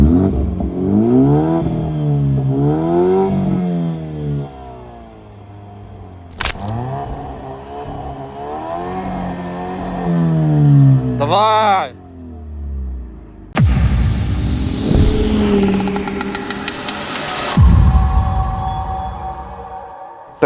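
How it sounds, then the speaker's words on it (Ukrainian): An Alfa Romeo Giulia engine revs up and drops back several times, with a loud exhaust roar through its exhaust valve and clattering bursts, followed by a sustained high-pitched whine. "як заслонка працює, і ну як зараз е, в принципі звучить вихлоп"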